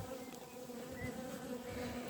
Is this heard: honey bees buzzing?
yes